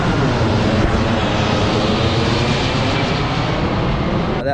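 An airplane flies overhead, a loud, continuous engine roar that stays strong throughout and begins to fade right at the end.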